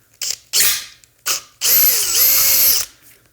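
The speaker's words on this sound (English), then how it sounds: "let's switch up to our bigger size bit here. And we're just going to follow those holes through." A power drill with a larger bit bores through existing pilot holes: a few short whirring bursts, then a longer, loud, close run whose whine sags and recovers as the bit bites.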